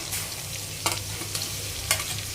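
Chicken and shrimp being stir-fried together for seafood mixed fried rice, a steady sizzle in the pan broken by a couple of sharp scraping stirs.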